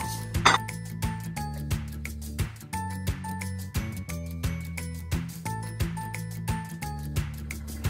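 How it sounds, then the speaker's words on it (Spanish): Green beans and broken potato pieces drop into a casserole pot in a Spanish home kitchen, giving repeated clinks and clatters of vegetables against cookware over a steady low hum, with no talking. "Después ponemos las judías verdes en la cazuela y tronchamos las patatas."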